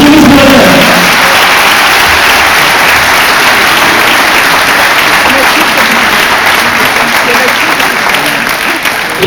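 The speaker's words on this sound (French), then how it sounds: "s'il vous plaît, applaudissements pour Thierry Sarrazin" Loud, close applause from an audience greeting Thierry Sarrazin, a dense continuous roar of clapping that holds steady for the full length, with a voice briefly audible at the very start.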